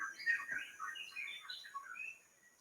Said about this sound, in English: I'll turn the bird sounds down for Mary.